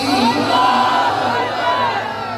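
Massed voices at a naat gathering roar Allahu Akbar in reply to the Nara-e-Takbir call, a loud collective chant rising and holding for a couple of seconds.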